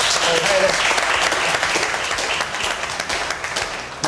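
A studio audience at a TV comedy talk show breaks into sustained, dense applause, loud and close, slowly thinning toward the end, with a voice faintly audible beneath the clapping.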